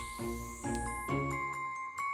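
Bright bells chime and tinkle in a few struck tones, ringing with sustained overtones, clear and moderately close.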